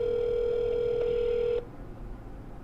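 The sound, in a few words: phone call ringing unanswered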